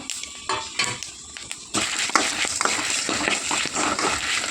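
Sizzling and crackling of dry chillies and spices frying in hot oil, growing louder partway through, with light stirring clatter close by.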